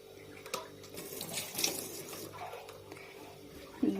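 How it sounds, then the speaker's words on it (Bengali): Soaked taro (mankochu) pieces being washed in water, with continuous splashing and running water close by, moderately quiet, and a small clunk near the end. "ভালো করে ধুয়ে তারপর জলটা একটু ঝরিয়ে নেব"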